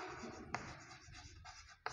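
Marker or chalk writing on a board during a maths lesson, a quiet scratchy stroke sound lasting about two seconds with a few sharper taps.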